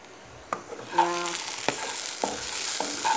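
Raw papaya frying in a pan, with a steady close sizzle under repeated stirring clatters and scrapes of a utensil against the pan; no one talks.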